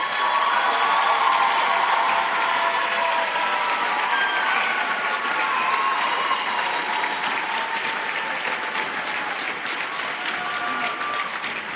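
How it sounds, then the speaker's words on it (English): Sustained, dense applause from an audience at a college nursing pinning ceremony, steady and loud throughout, slowly easing slightly toward the end with no voices over it. "that was the next round of applause"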